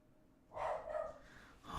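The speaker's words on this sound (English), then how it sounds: "my dogs have to immediately start barking" A dog at home lets out a short, breathy bark followed by a huffing snort. The sound is close and moderately loud against a quiet room.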